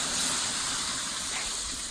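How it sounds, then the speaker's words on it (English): Marinated vegetables poured onto a very hot Weber grill give off a steady, close, loud hissing sizzle that holds evenly throughout. "So you know I'm all about the sizzle. Listen to this."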